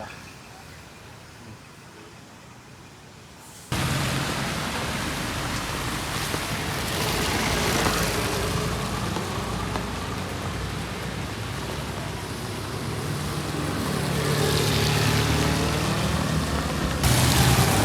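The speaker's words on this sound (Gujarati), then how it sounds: "વરસાદ તો ભાઈ ચાલુ રહેવાનો છે." Steady rain pouring on a city street in Kathmandu with passing traffic, a dense continuous wash of rain noise that swells and dips, nearby and loud after a quieter opening few seconds.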